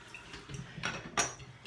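Running water rinses a straight razor after honing on an 8k stone, a soft continuous splash with a few clinks and drips close by, and no talking.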